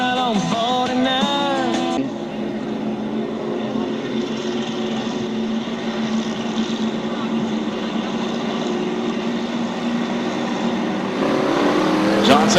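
Bomber race cars on a short oval get back underway after the green flag, a steady massed engine roar that holds throughout, with an announcer talking over it.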